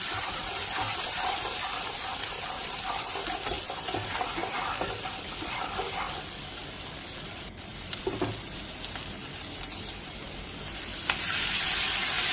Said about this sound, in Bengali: মশলা ভাজা হয়ে গেলে আমি এতে পরিমাণ মতন জল দেবো